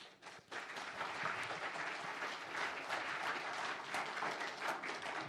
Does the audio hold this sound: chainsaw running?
no